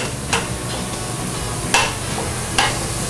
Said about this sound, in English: I'm getting ready to mix the onion peppers in